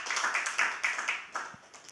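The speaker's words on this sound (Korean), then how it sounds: "영광의 박수, 감사의 박수 드리겠습니다" A church congregation claps together during a Sunday service, a brief burst of fairly steady, moderately loud applause that thins out toward the end.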